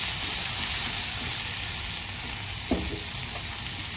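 Rice with sweet corn and peas sizzles steadily in a pan over a low flame, a soft constant frying hiss with one brief scrape of stirring, close by and without talk.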